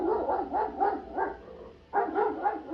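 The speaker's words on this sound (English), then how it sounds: "my neighbor's dog started barking." A large dog barks in a quick series of deep, moderately loud woofs, a pause, then another burst, heard at night from some distance.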